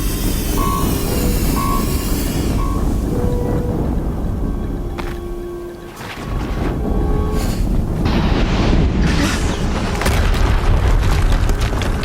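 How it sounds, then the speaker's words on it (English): An explosion in the video game Horizon Zero Dawn, a heavy sustained rumbling boom that dips briefly midway and then swells again with crackling debris, over a series of electronic tones. "Another explosion."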